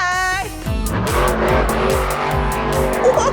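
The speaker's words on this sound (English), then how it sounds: "Sounds like a monster truck." A monster truck engine revs hard in a series of rising and falling roars, each surge sweeping up then dropping, loud and close with a squealing edge near the end.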